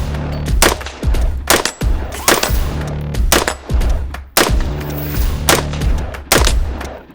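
A homemade AR-15 fires .223 rounds at a steel target, about ten loud, sharp, evenly spaced shots, each followed by a short ringing tail and metallic ping.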